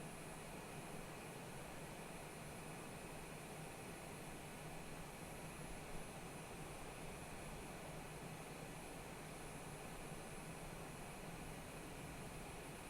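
Airplane engine in Microsoft Flight Simulator 2020 on a flight from Manchester to Malta, a steady, even engine drone with broad hiss that holds unchanged throughout, fairly faint and with no voices.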